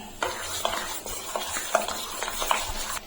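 Amriti batter mixed with Eno and water being stirred in a bowl, a series of close, rhythmic scraping and tapping strokes, some sharper clicks, with no talking.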